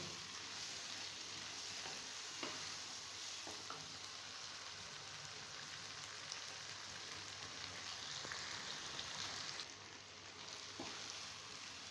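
Chickpeas frying in oil with yogurt in a Lahori chikar cholay, a faint, even crackling sizzle with scattered light spoon taps and scrapes, steady and unaccompanied by speech.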